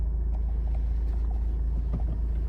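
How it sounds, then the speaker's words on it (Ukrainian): Diesel engine of a 2013 Honda CR-V 2.2 with manual gearbox and 4x4, idling steadily as a low, continuous rumble close by, with no voices. "Двигун працює добре, ніякого диму нема"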